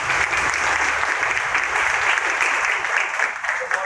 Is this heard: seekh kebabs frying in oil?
no